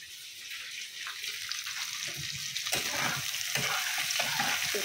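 Tomatoes and chopped green chillies sizzle steadily in a hot oiled pan while a spoon stirs and scrapes through them, a continuous close frying hiss with soft stirring scrapes and no talk.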